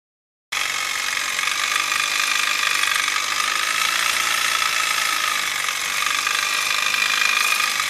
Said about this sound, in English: I'm going to show you how quick this thing cuts through these rivets